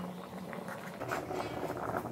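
A thick curry boils in a pan, bubbling and popping steadily, with soft spluttering bursts growing a little louder partway through.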